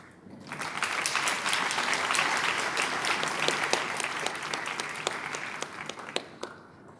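Sustained applause from a large crowd at a ceremony, a dense wash of clapping that swells quickly, holds steady, then thins out to a few scattered claps.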